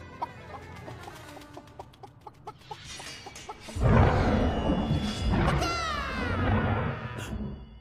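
A cartoon chicken in an animated show clucks in quick, repeated bursts, close and loud, alone, growing busier and more agitated in the second half.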